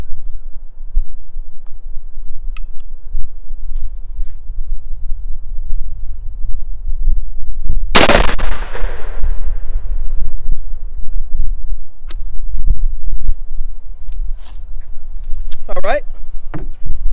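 A single sharp gunshot from a restored Iver Johnson gun on an outdoor range cracks out loudly about halfway through, leaving a short decaying ring over steady wind and low rumble.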